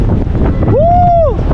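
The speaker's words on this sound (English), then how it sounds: "Might be a bit windy on this one" Steady low wind rumble buffets the microphone on a fast theme park ride at Flamingo Land in Yorkshire, with a rising and falling whistling tone sweeping through the middle.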